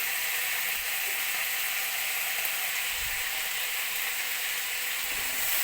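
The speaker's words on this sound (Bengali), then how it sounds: "নুন হলুদ দিয়ে আলুটাকে ভেজে নেব" Cut potatoes with salt and turmeric powder frying alongside lightly fried garlic in a pan, a steady, close, hissing sizzle with a couple of soft low bumps, continuous and unaccompanied by voices.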